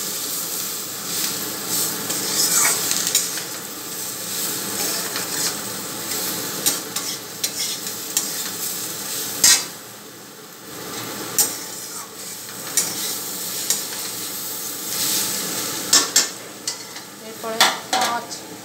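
Vegetables sizzle loudly in a pan with salt and turmeric, with continuous frying hiss broken by frequent spatula scrapes and clinks against the pan, close up and without speech.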